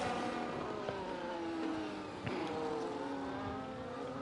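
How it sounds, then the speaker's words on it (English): A Ferrari race car running in a racing video game at Suzuka, its engine a steady droning whine with shifting pitch sweeps, continuous and fairly close throughout. "the Ferrari gets going again with a broken end plate"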